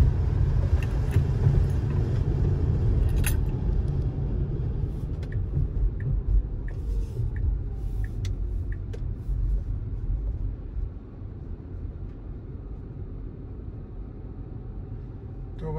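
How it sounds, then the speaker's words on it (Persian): Tesla car accelerating from about 30 mph onto a highway, with a steady, loud road rumble and engine-like hum throughout and traffic ahead. "خب اینجا دوباره من یه شتابی سعی میکنم بزنم، اول ماشین رو صاف کنم که نپیچه یه دفعه."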